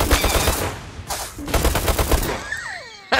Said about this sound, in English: they rush you with the cannon